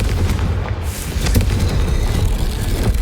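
Confringo spell explosion in the Hogwarts Legacy video game, a loud, dense rumbling blast with bright crackling bursts that fills the whole stretch without pause.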